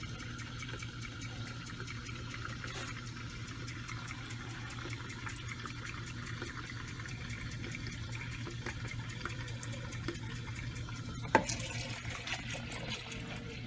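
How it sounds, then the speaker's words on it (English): Water pours steadily into a container for dyeing yarn, a faint, even running stream that continues throughout, with a short clunk near the end. "you want to fill it up with a good amount of water"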